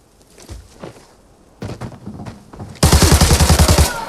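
Gunfire in the video game Arena Breakout: a few scattered shots and thuds, then a loud, rapid automatic burst at close range in the final second, with no talking.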